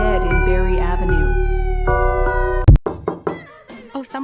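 Knocks on a door land as a quick burst of loud, sharp raps after a stretch of siren-like tones and music, followed by a few thuds.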